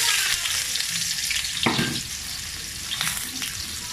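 Sliced onion fries for afritada in a hot pan, a constant crackling sizzle broken by a few sharper stirring clatters and splashes, close and fairly loud with no talking.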